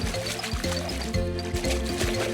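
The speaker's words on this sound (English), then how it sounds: "they both tumbled down the hill into the babbling brook" Cartoon water effect of two characters tumbling into a babbling brook: bubbly liquid gurgles and splashy sloshes in quick repeated bursts, loud and close, with a musical tone running underneath.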